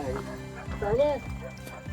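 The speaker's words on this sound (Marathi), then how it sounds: "कुत्रा पण भुकते." A dog barks near parked vehicles beside a temple on a rainy-season trek, a few short yelping barks mixed in with close voices talking.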